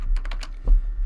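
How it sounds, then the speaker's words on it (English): Short burst of typing on a computer keyboard while entering a search term into a spreadsheet function box, several quick close keystrokes followed by a single firmer key press. "we're just going to type in if"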